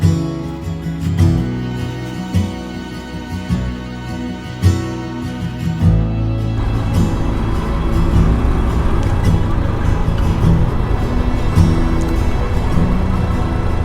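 A Honda Trail 125 motorcycle gets under way, its low engine note steady and close, broken by a few bumps in the first seconds before settling into a continuous ride.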